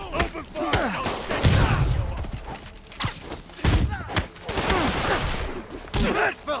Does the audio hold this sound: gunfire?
yes